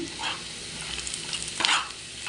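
A pan of small local fish curry with chili powder sizzles close by, with soft scraping stir strokes rising and falling over the frying for a couple of seconds, no voices.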